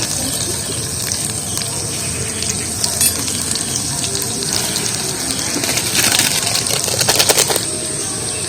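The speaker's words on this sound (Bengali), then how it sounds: "আর দিয়ে দেবো 8 পিসা আদাটা দিয়ে দিচ্ছি তেলের মধ্যে" Black cumin and ginger pieces fry in hot oil for garlic pickle, a loud, steady sizzle and crackle throughout, swelling into denser popping near the end.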